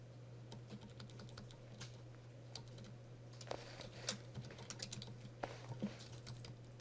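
Someone types C++ code on a computer keyboard, a quiet, steady stream of key clicks that grows busier and slightly louder toward the end, heard close against a low constant hum and with no voices.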